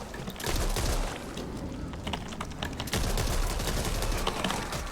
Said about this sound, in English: we're gonna shoot wildly into the forest